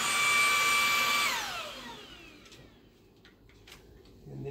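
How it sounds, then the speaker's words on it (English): The motorized turbo head of a Simplicity S65 stick vacuum whines loudly, then its pitch falls as it spins down and stops, leaving a quiet room with faint handling noises. "then you have a turbo head for cleaning stairs"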